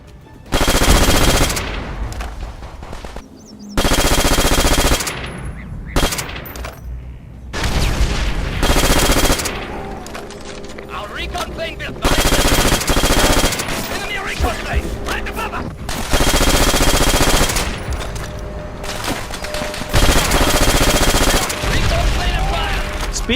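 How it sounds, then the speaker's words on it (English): Call of Duty gunfire sound effects, loud automatic bursts alternating with short pauses and brief breaks, rapid rattling shots repeating across the stretch, with some talk between them. "the most memorable part was definitely the firing sound"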